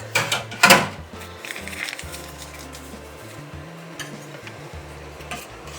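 Spoon stirring blackberry jelly mixture with a bit of butter in a pot, a couple of loud clanks against the side at the start, then quieter continuous scraping and swishing.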